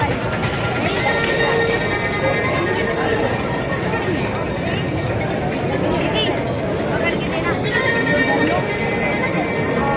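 Loud, sustained clapping from an audience at a state-level softball championship prize ceremony, dense and continuous throughout, with crowd chatter and voices mixed underneath.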